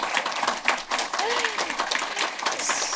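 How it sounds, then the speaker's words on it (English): An audience applauds the arrival of veteran film director Costa-Gavras at a cinema event, dense steady clapping filling the room over three seconds, with a few voices faintly audible beneath. "So please, applause."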